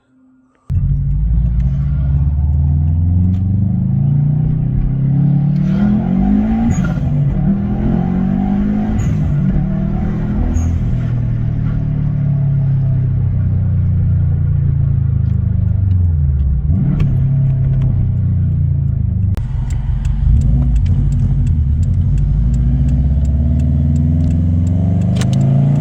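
A Subaru Forester STi SG9 fitted with a GFB Respons T9003 blow-off valve, driven on a test run: loud, steady engine drone with repeated rising revs and drops as the car accelerates, heard from inside without talking.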